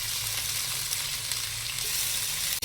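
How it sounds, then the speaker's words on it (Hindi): Vegetables fry in hot oil in a wok, giving a steady, close, hissing sizzle with a soft low hum beneath and a brief dropout near the end. "आए कढ़ाई में हमने ऑयल डाल दिया और ये सारी सब्ज़ी इसके अंदर डाल देंगे"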